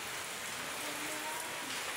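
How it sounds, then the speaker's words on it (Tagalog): Dense, steady rain pours down, a continuous hiss of drops striking surfaces all around, with no voices. "Lakas ng lakas ng ulan oh."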